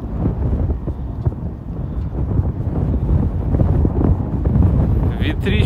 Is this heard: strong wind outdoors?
yes